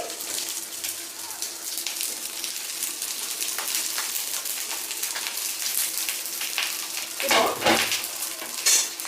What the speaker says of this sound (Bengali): এবারে গ্যাসের ফ্লেমটা একদম লো করে দিয়ে এই পাতুরিগুলোকে আমি এর মধ্যে বসিয়ে দিচ্ছি